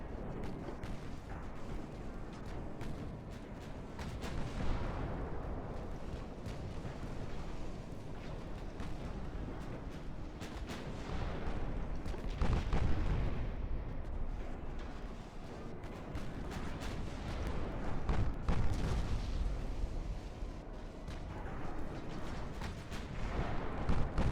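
Naval gunfire and shell explosions from a battle against an armoured cruiser in the warship game Ultimate Admiral Dreadnoughts, a dense rolling rumble of repeated booms that swells and fades throughout.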